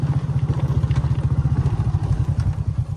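A motorcycle climbs a mountain road, its engine throbbing loud and close with a fast, steady pulsing beat through the whole stretch.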